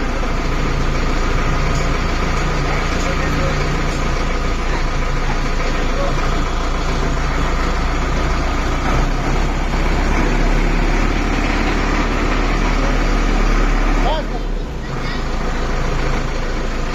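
A loader's diesel engine runs loud and close, with its rumble swelling as the accelerator is applied, while someone talks over the steady machine noise.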